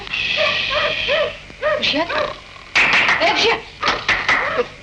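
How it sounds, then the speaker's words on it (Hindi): Dogs yipping and barking at night, high whimpering yelps in bursts close by, while a man calls out over them. "अरे सुनता नहीं, कुत्ते कब से भौंक रहे हैं?"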